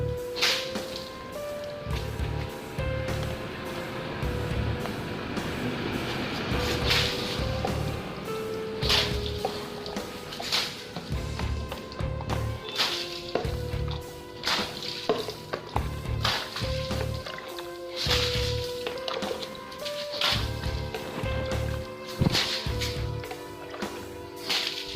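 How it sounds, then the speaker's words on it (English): Water jets forcefully onto the chain sprocket of a KTM RC 390 motorcycle during home maintenance, a steady loud hiss and splatter with pulsing surges, continuous and close throughout. "So I'm just putting the water forcefully"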